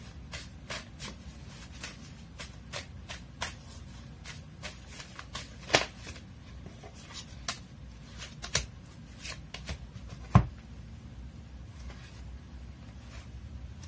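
Tarot cards being shuffled by hand, a steady run of soft papery riffles and flicks with a few louder snaps, close and alone with no talking.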